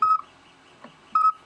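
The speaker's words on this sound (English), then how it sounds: "Below that, we have the flute, which works as part of the alarm." A steampunk timezone clock's flute alarm sounds two short, clear piping tones about a second apart, separated by faint quiet.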